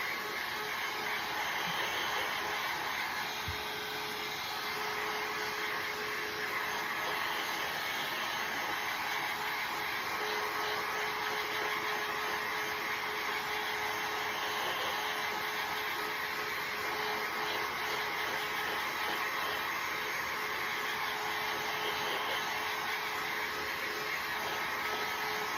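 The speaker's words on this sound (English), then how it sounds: "You can use a heat gun. This is a heat gun." A heat gun blows steadily to dry decoupage on glass, a constant loud whirring hiss that runs unbroken throughout with no talk.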